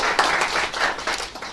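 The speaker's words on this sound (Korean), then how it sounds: "박수 한번 주시죠." Parents at a middle school general assembly clap briefly after an appointment certificate is presented: a short burst of moderate applause from a small group of hands in a room.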